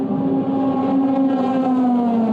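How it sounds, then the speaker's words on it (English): A Euro Formula race car accelerates out of the Parabolica corner at Estoril during qualifying, its engine a loud sustained howl rising steadily in pitch, heard without commentary over it. "The engine howls"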